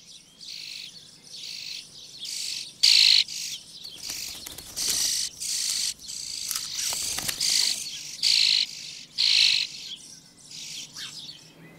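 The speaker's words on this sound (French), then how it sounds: "Les oisillons grandissent vite et font mentir comme toujours l'expression « appétit d'oiseau »." Robin nestlings in a nest between two stones call for food, with repeated high, thin begging bursts rising and stopping in a steady rhythm over faint insect chirping, close and fairly clear.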